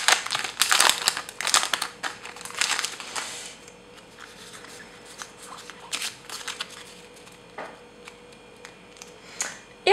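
Foil Pokémon booster pack wrappers crinkle and tear as they are opened by hand, making close, busy crackling bursts in the first seconds that thin to sparse rustles and card handling later.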